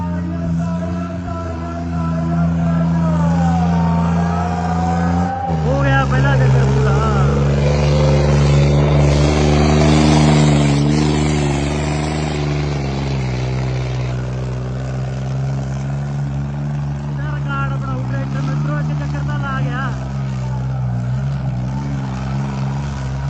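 A heavy John Deere tractor engine pulling a trolley runs steadily for the whole stretch, its low throbbing hum rising and straining in the middle before easing off slightly.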